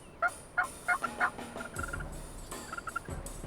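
Wild turkeys gobble in a flock of about twenty: several loud rattling bursts come near the start, then quieter overlapping gobbles and calls follow over a steady outdoor background.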